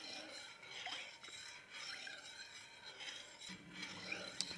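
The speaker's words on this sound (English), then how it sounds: "I'm just doing a figure eight in my stirring" A spoon stirs sugar into a milk mixture in a pan in a steady figure-eight, giving a quiet, continuous scraping rub with a few small clinks near the end.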